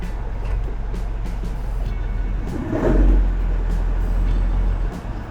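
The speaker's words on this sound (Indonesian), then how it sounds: "Sekalian ngetes suara knalpot. Kayaknya nggak terlalu berisik deh." Inside a moving Toyota Hilux, a steady low engine and exhaust drone hums with road noise, rising briefly in the middle as the pickup drives on, with no talk over it.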